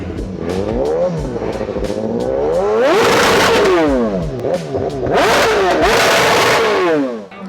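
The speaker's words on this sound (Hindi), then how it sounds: "फुल सिस्टम एग्जॉस्ट लगाया गया है ऑस्टिन रेसिंग का, और इसका आवाज़ तो और भी ज़्यादा रहेगा" Motorcycle fitted with an Austin Racing full-system exhaust at an auto expo, revving loudly and repeatedly, its engine note climbing and falling in close, aggressive bursts with no talking.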